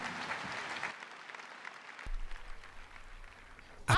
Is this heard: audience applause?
yes